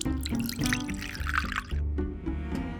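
Water pours into a pot to boil chicken thighs for fried chicken, a steady, fairly close splashing stream lasting a few seconds.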